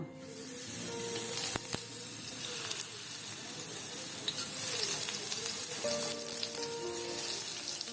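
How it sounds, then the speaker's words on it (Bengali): Coated eggplant rings fry in soybean oil with a steady, moderately loud sizzle and hiss that holds throughout, with no talking. "আমি পরিমাণ মতো তেল দিয়ে নিব সয়াবিন তেল তারপর আমি যে বেগুন রিংগুলো মেখে রেখেছিলাম সেগুলো দিয়ে দিব"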